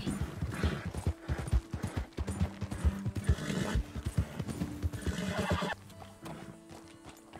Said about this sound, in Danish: Hop, hest. Giddy up.